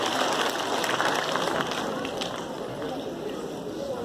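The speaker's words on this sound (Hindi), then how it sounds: "मैम जूबिया के लिए सारे बच्चे तालियां बजाएं" Children clapping together at a school award ceremony, a dense steady patter of applause that fills the room and fades slightly toward the end, with voices in the background.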